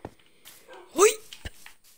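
A single short dog bark from a dog in the video game Minecraft, brief and fairly close, set among quiet game sounds with a voice nearby.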